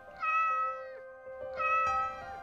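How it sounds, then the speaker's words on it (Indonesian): A cat gives two drawn-out, wavering meows close by, each rising then falling in pitch, with a short gap between them and no talking over them. "Saat itu kucing pun menjawab."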